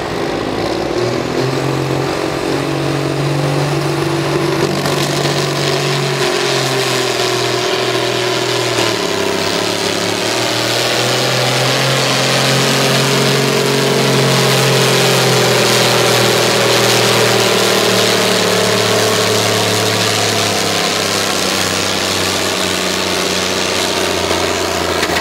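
Turbocharged John Deere pulling tractor engine roaring through a run at a county fair tractor pull, a loud continuous droning roar with shifting pitch, no talk.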